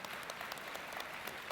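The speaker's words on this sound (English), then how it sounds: "So give a big applause to Ilse." An audience at a concept art session claps, a dense, even burst of applause filling the whole moment.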